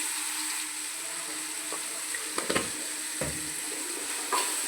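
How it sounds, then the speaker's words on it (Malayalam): Onions sautéing in a pan for egg biryani, a steady soft sizzle with faint scattered clinks and stirring scrapes, fairly quiet and alone. "ഉള്ളി ഏകദേശം ഒന്ന് വാടി വരട്ടെ"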